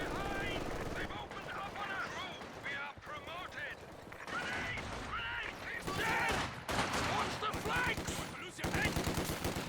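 Machine-gun fire and other gunfire crackle through a Company of Heroes 2 battle, rapid bursts layered with game effects while a commentator keeps talking over it.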